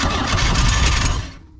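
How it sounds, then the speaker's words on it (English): Starter cranking a boat engine under restoration, with a newly installed starter and freshly sanded points: a loud, dense mechanical churn that runs steadily for about a second and a half, then cuts off abruptly. "Got that starter in. Let's hear this first crank."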